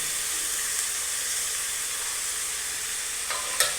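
Bitter gourd frying with spices in a pan, a steady loud sizzle throughout, broken near the end by a couple of quick scraping stirs of the spoon.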